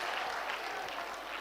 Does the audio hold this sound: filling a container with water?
no